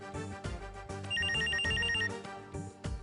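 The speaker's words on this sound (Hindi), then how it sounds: "फोन आ गया।" A telephone rings with a repeated electronic trill in short bursts, over background music.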